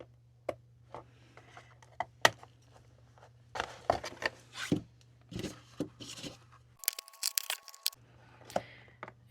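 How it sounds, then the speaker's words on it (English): Scissors snipping through plastic takeout containers being cut up for seed-starting pots, a series of sharp close clicks and crackly cuts with rustling handling between them, no talk. "And then I can go get my scissors and just kind of cut those off."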